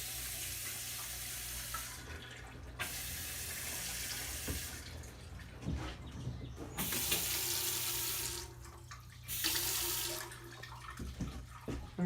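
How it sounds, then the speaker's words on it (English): Water runs from a trailer tap, supplied from the holding tank by an electric demand pump: a steady rushing flow starts and stops in several long bursts over a low continuous hum. "Now it will run off of the holding tank and the demand pump will come on."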